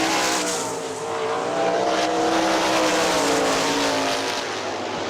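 Sprint cars race around the dirt oval at Hartford Speedway Park on the final lap, their engines roaring loud and steady with rising and falling pitch as the pack runs down the back straightaway. Crowd noise fills the background.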